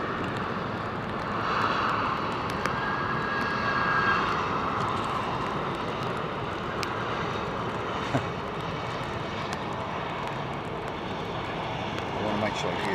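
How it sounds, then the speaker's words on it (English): Aircraft engine roar from planes at London Heathrow Airport in the rain, a steady broad rumble that swells slightly around the second and fourth seconds and carries on over continuous rain and wind noise. "I want to make sure you hear the planes as well, Julie, not just me."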